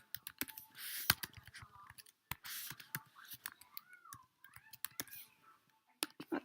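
Someone types on a computer keyboard in quiet bursts of irregular clicks and clacks, with pauses between runs, while a cat meows faintly partway through.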